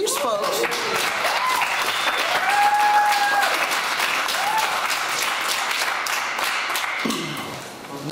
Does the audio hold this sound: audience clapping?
yes